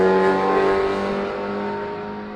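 A Subaru WRX race car drives along the Summit Point track, its engine a loud, steady tonal roar close by that slowly fades as the car moves away.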